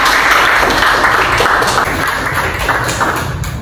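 A class of schoolchildren claps together in a room, a steady dense patter of hands at close range that fills the whole stretch and holds at a consistent loudness.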